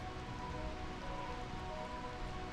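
Rain falling in the Final Fantasy IX video game, a steady dense hiss of drops on surfaces that stays even and moderately quiet throughout, with no talk over it.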